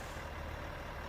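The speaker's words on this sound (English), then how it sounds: "the engine sound could be a little bit better, but we're running a Cat" A low, steady diesel engine rumbling at idle from a Caterpillar C3406A in a Kenworth-style truck in American Truck Simulator, continuous and even, with no voices over it.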